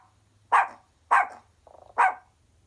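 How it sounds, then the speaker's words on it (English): Three sharp, loud dog barks spaced about half a second apart, with a softer short yip between the last two, over a low steady hum. "some of you know this sound really well because you might have a dog at your house too"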